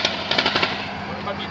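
Rapid bursts of gunfire from an infantry fighting vehicle shooting into treeline cover in the Ukraine war zone, a quick cluster of sharp cracks at close range followed by a lingering noisy roar, with voices mixed in.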